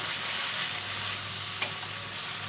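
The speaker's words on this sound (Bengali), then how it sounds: "এর জন্য কড়াই দিয়ে দিলাম আর দিয়ে দিলাম পেঁয়াজ তেজপাতা দিয়ে একটু ভেজে নিয়ে লাল করে একটু ভেজে নিলাম" Onion and bay leaf frying in a wok for a chicken curry, a steady broad sizzle holding level throughout with one brief sharp clink of a utensil partway through; no talking.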